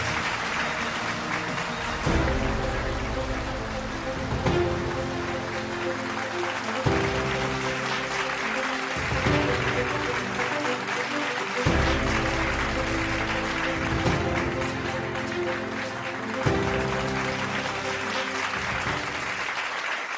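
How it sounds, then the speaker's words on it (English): Steady audience clapping fills an awards ceremony hall, dense and continuous, accompanied by a repeating musical sting with recurring tonal hits every couple of seconds. "A big round of applause for them, please."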